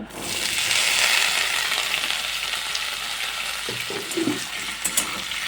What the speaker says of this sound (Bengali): এখন আমি কেটে রাখা আলুগুলোকে এই তেলের মধ্যে ছেড়ে দেব